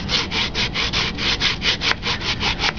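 Sandpaper of 80 grit strokes back and forth across a balsa glider wing, about fourteen even, rhythmic rasping passes, close and dry, with no talking.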